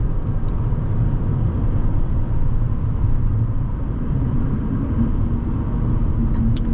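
A 2012 Audi A4 2.0T Quattro cruising on a road, heard from inside as a steady low rumble of engine and tyre noise, loud and unbroken.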